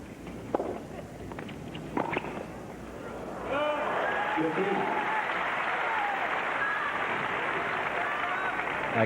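A tennis crowd at a 1995 Washington match between Agassi and Edberg bursts into sustained applause after a few scattered claps, loud and steady clapping filling the stands, with a commentator talking briefly.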